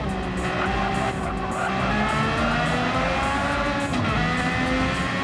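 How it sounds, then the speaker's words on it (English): A Honda race car in Gran Turismo 7 is driven flat out, its engine droning loud and steady throughout with layered harmonics, tyres scrubbing and a slight scrape as it brushes a wall. "Zoidberg is really pushing that Honda to the limits as it hits the wall a tiny bit"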